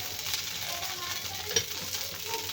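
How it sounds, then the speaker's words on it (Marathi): Green chillies roasting in a little oil in a pan: a steady, close sizzle with occasional stirring scrapes and a small pop. "आता मिरच्या भाजून घेऊया आपण थोडंसं घालते तेल"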